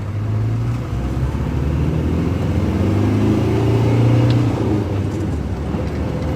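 Land Rover Defender on 35-inch tires with full-time four-wheel drive, driven on a farm, a steady loud engine drone and rumble from inside the vehicle, without speech.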